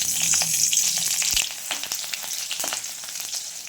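Green chillies sizzle and crackle loudly in hot oil, the frying steady with occasional sharp pops and a brief stir.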